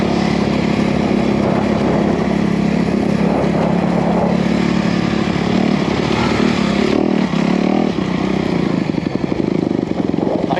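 A new Honda CRF250R dirt bike on a trail ride in Tennessee in the fall, its engine droning loud and close, holding a steady, continuous buzz throughout with slight shifts in pitch.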